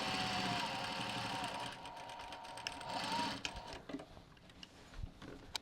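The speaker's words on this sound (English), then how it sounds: "So I'm going to sew from here to there, leaving a centimetre open at each end with a centimetre seam allowance. Back stitch at each end." A sewing machine stitches a rucksack seam with rapid, even needle rattling that runs for a few seconds, then slows to scattered clicks and thumps as the stitching stops.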